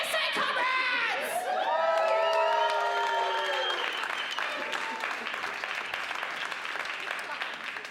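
Comedy club crowd clapping and cheering at a stand-up set in Charlotte, with whoops and a high shout over sustained applause that gradually thins out.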